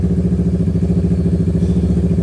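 A Kawasaki Ninja 650 motorcycle with a Drift exhaust and headers idles nearby, a loud, steady, low rumbling putter with an even pulsing rhythm and no revving.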